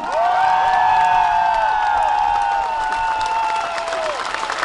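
An audience at a dance show applauds and cheers for a couple who have been together 48 years, a sustained burst of clapping with bright whoops and shouts rising above it.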